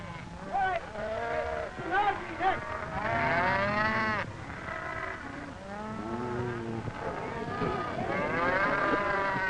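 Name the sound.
cattle mooing at Apache roundup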